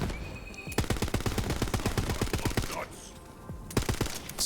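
Rapid bursts of pistol fire from a six-shot video game sidearm with added fire damage, crisp regular shots in two volleys separated by a brief pause, loud and close, with a faint voice in the background.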